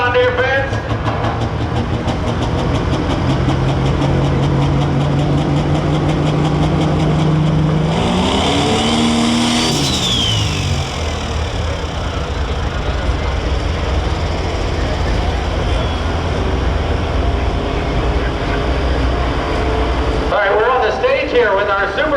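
A John Deere pro stock pulling tractor at a tractor pull in Henry, Illinois roars continuously and loudly, with a rising engine pitch and turbo whine, mixed with crowd and announcer noise throughout.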